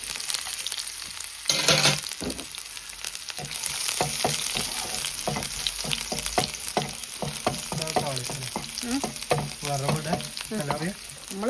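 Small onions hit hot tempering oil that already holds popping mustard seeds, giving a loud, continuous sizzle with quick crackles and spits scattered throughout, heard close up.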